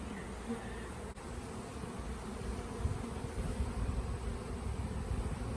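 A swarm of feral honey bees buzzes steadily throughout, a dense, continuous hum that stays close and fairly even with no talking over it.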